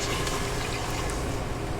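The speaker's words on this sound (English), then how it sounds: "So we're just gonna add 2 cups of water." Two cups of water poured into a pan heating on a stove fire, a steady continuous splashing pour that runs loud and unbroken throughout.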